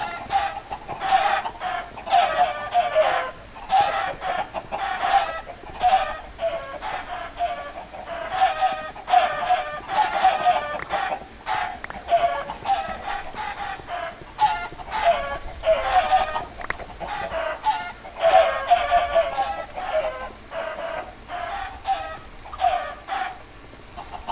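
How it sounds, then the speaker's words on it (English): A large flock of chickens in Minecraft clucks and squawks continuously, dense overlapping game-animal calls repeating at close range for the whole stretch. "Wow, that's a lot of chickens."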